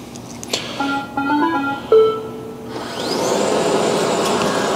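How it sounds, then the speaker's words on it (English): A vacuum cleaner in normal mode runs on carpet, starting with tonal whines and shifting pitches before settling into a loud, steady broadband rush. "So I'm going to start cleaning with the vacuum."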